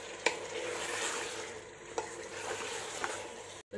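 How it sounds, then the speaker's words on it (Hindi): Mutton frying in a pan with turmeric, red chili powder and salt, a continuous close sizzle with a few sharp spoon scrapes and taps as it is stirred, no voices. "2 मिनट इन सभी चीज़ों को हम अच्छे से भून लेते हैं"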